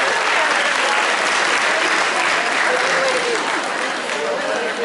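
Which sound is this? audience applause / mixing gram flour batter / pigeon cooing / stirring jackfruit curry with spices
audience applause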